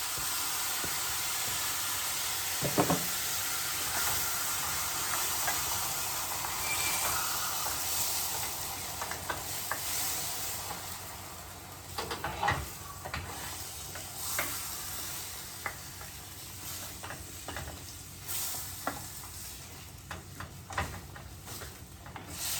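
Sauce stirred in a pan in a trucker's cab kitchen, a steady hissing sizzle with soft scattered scrapes and taps of the utensil throughout, close and fairly quiet, no voices.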